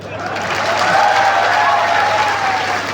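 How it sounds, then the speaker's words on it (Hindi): A large crowd at a World Adivasi Day rally in Nangal claps loudly and steadily, a dense sustained roar of applause with some voices mixed in. "आप लोग जोरदार तालियां बजाओ"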